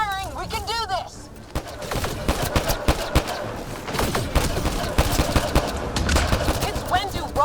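Mass Effect Andromeda combat brings rapid gunfire bursts and sharp impacts, loud and near, with alien chirping cries at the start and end and voices shouting over the fight.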